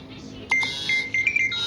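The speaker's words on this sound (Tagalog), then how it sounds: "nagulat naman ako sa alarm ko" A phone alarm goes off indoors in a short burst of high, thin electronic beeps, starting abruptly and repeating in quick uneven pulses at moderate loudness, with faint room noise underneath.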